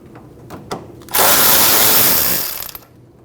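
A power tool spins out the 8mm bolt holding the fan shroud to the radiator on a 2012-2021 Nissan NV2500 5.6L V8, a loud, close whirring burst of about a second and a half after a couple of light clicks.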